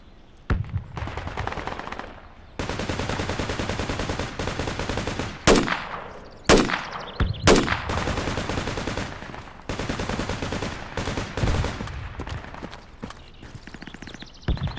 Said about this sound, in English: Taking fire from the west, northwest